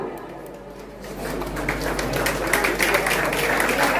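Audience applause welcoming Smriti Irani on stage at a public event in Vasai: a dense crowd clapping that starts softer and swells to a steady, loud roar over a few seconds.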